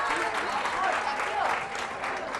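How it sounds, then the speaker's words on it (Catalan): Applause for a contestant on a Catalan quiz show, a fairly quiet, steady patter of studio audience clapping heard under some vocal sound throughout. "Tens l'aplaudiment"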